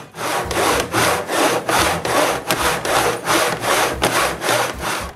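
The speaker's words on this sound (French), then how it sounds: "je retourne sur la scie que j'ai rapportée du chalet, puis je coupe le tout aux bonnes longueurs" Rhythmic back-and-forth strokes of a hand saw cutting through wood, about a dozen steady rasping passes, close and clear.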